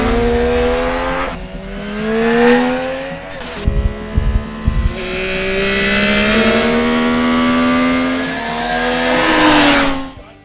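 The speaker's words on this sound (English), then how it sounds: "As you can hear, we already got some bikes out on track" Yamaha YZF-R9 supersport motorcycles on a race track, engines whining and shifting as they pass, loud and near, with a few sharp thumps partway through.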